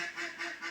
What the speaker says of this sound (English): One noisy little duck.